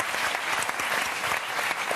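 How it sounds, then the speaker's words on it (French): A French television studio audience applauds on a talk show, dense, loud and continuous clapping that fills the room without a break. "Je vous demande d'applaudir Ben et Arnaud."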